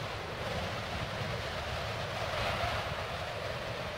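Storm wind howling through the Ice Cavern in Final Fantasy IX, a steady, full roar of gusting air that stays constant and fairly loud throughout, with no voices.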